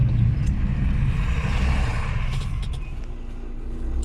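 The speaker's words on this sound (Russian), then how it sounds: "И печка гудит." The heater fan of a Moskvich 412 hums steadily inside the car on a winter drive, a continuous broadband drone blended with low engine and road rumble, with no talking.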